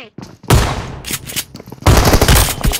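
Loud bursts of video game gunfire crackle in two close, dense volleys separated by a brief lull, sharp and near, with no talk over them.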